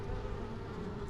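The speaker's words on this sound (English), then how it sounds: "we've got a lot of bees in this first hive, a lot of bees" Honey bees hum inside a spring hive box, a dense, steady buzz that stays even and close throughout the short moment.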